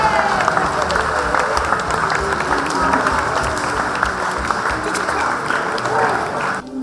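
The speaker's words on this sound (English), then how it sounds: "So a big round of applause for these four." Audience at a rural training awards night claps in sustained, loud applause with crowd murmur, a dense even clatter filling the whole stretch.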